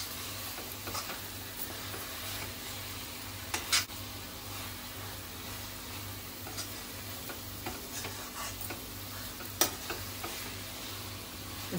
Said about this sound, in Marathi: आपण मिश्रण मिक्स करतो।